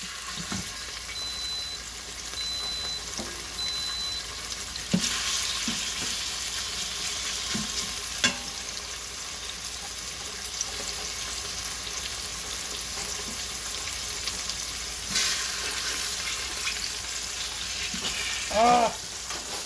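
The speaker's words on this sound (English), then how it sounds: "finish up searing our pork chops" Pork chops sear in a hot pot with a steady broad sizzle throughout, close and even, broken by a few faint clinks and shifts of the meat.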